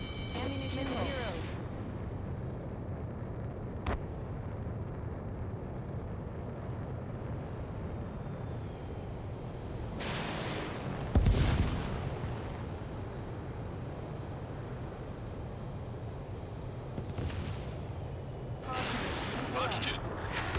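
Missile launches and heavy explosions rumble in the Ace Combat 7 air combat video game, with a steady roaring jet and wind bed broken by several loud bursting blasts and whooshes spread across the stretch.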